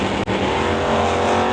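A GMC Jimmy drag race car roars loud and steady at the strip during Friday testing, a brief dip in the engine note before it surges back into a sustained, full-throttle launch.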